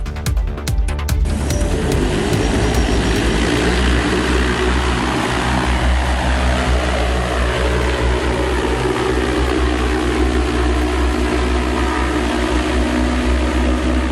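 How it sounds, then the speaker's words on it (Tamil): A single-seat battery-powered flying vehicle built with drone technology gives off a loud, steady whirring rotor roar that holds unbroken for the whole stretch, with no voices. "நம் நாட்டு இளைஞர் ஒருவரால் உருவாக்கப்பட்டுள்ள பறக்கும் வாகனம்தான் இது."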